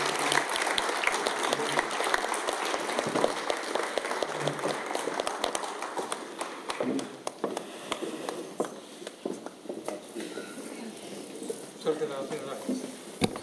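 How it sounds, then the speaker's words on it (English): Audience applause at an infrastructure and construction materials conference awards ceremony as a recipient from a rural development center's bamboo department comes forward, steady clapping that thins and turns more scattered toward the end. "Give them a big round of applause, ladies and gentlemen."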